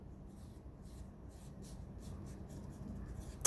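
A word written by hand on a worksheet gives a quiet, soft scratching of strokes on paper, close and faint, with no speech.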